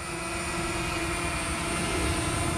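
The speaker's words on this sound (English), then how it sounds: "There's my drone, as you can see." A DJI Mavic Mini drone flies nearby, giving off a steady, high-pitched whirring whine from its small propellers, heard alone and at an even level.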